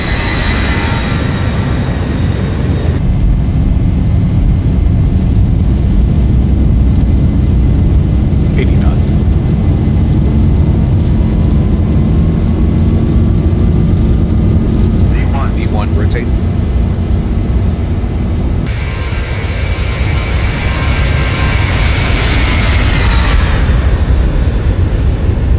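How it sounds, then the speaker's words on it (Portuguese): Jet aircraft engine drones steadily during a takeoff roll on a runway in the X-Plane flight simulator, a loud continuous roar with a tonal whine rising near the end, under a man's speech. "O vento às vezes fica jogando a aeronave para fora da pista e a gente está sempre corrigindo, né?"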